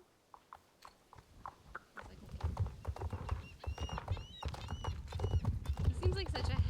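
Horse hooves clip-clop in the Star Stable video game, with sparse steps at first that become a steady, busier trotting rhythm. A voice talks over the hoofbeats and a few high game tones come through.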